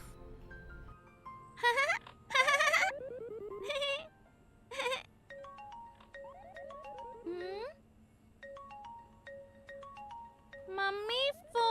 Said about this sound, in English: Mummy, phone.